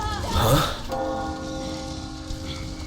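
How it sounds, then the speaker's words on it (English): A temple bell in Resident Evil 4 rings out after a muffled thump, leaving a sustained metallic tone that slowly decays in a reverberant space. "that cutscene where Ada rings the temple bells to attract all the enemies"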